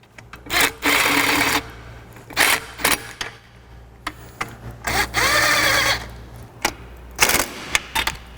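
Pneumatic impact gun turned down low, snugging Dodge Hellcat supercharger bolts in a crisscross pattern, firing in repeated short buzzing bursts of varying length separated by brief pauses, close and loud over a steady shop hum.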